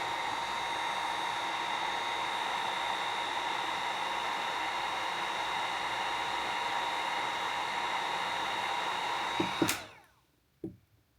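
A heat gun blows a steady, loud, hissing airflow close by while softening a Glock grip sleeve, then clicks off and cuts to near silence with a couple of small knocks.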